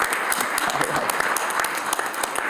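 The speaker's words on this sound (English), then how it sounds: "And a round of applause for our host, the Honorable Roz J. Baraka." Applause for the host at a summit session at NJIT, a steady, full round of clapping from a large audience, close and even throughout with some voices in the crowd.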